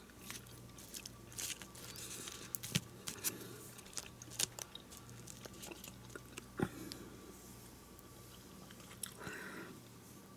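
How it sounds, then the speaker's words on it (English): Someone chewing hot air-fried food close to the mic, soft repeated crunches and bites spread irregularly over a quiet background. "Taking me a while to chew it because it's so hot."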